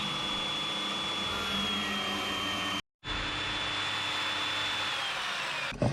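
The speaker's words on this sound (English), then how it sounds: "I'm just going to drill into the holes that I have center punched" A power drill with a 7 mm bit whines steadily at close range, drilling center-punched holes, stops briefly for a moment, then runs again with a constant high-pitched motor drone.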